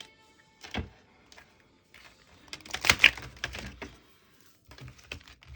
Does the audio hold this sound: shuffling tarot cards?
yes